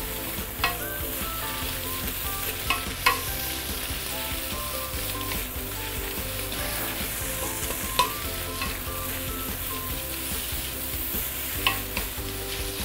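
Four kampung eggs stir-fry in a hot wok for Singapore Hokkien prawn mee, giving a steady close sizzle with occasional sharp clinks and scrapes of the spatula.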